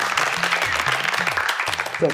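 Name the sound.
audience applause for contestants in a Yoruba children's game show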